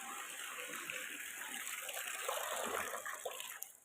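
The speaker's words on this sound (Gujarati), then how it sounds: "ડોલ છલકાઈ ગઈ" Tap water gushes into a bucket until it spills over, a soft, continuous splashing rush heard alone at low level and swelling slightly toward the end.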